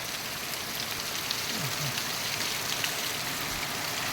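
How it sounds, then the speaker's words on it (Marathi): Heavy monsoon rain pours steadily outdoors near Mahabaleshwar, a dense continuous hiss of drops on surfaces with no voices, unchanging in loudness throughout. "मस्त पाऊस आहे मंडळी"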